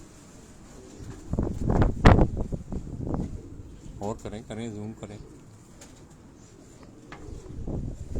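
Pigeons on a Karachi rooftop coo in short throaty bursts, loudest early on, while someone talks close by and throughout.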